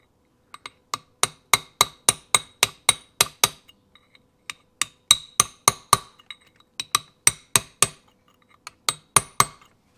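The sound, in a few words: chisel tapping a washer over on motorcycle engine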